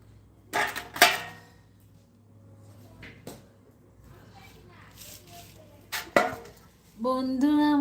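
Pots and utensils clatter in a kitchen while khichuri cooks, a few sharp knocks and scrapes scattered between quieter stretches, with a voice speaking near the end.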